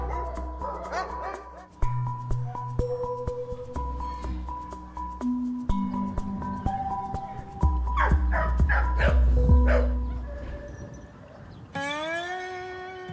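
Many dogs at a Spanish greyhound refuge barking, yipping and whimpering together in a loud, dense chorus, some close and some farther off, with a voice speaking among them.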